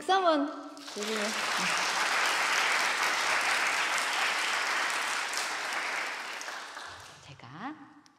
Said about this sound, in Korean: 일단 박수 한번 주시면